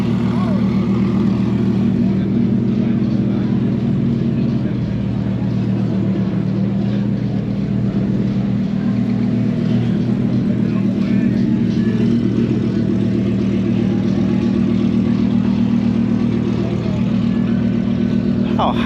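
A heavily modified former Ford Mustang at a Ken Block tribute gathering at the Peterson Museum: a loud, continuous deep engine rumble idling close by throughout, with people talking underneath.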